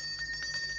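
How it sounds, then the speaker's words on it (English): A gate bell rings with a clear, sustained metallic tone, moderately close and alone, over a quiet low hum. "I wonder why he's ringing the bell when the gate's already open."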